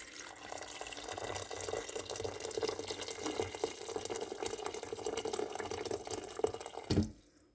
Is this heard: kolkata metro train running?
no